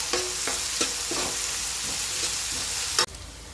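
Onion pieces, green chilies and curry leaves fry in hot oil in a pan, a steady close sizzle broken by a few scraping stirs with a spoon.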